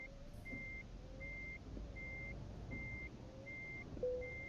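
An Iveco Stralis Hi-Way 460 truck in Euro Truck Simulator 2 sounds a regular reversing alarm, about six evenly spaced beeps over a low, rumbling engine idle.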